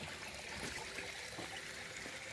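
Water trickles steadily from an old public fountain with three spouts, a faint continuous dribble and splash heard alone at a distance with no talking.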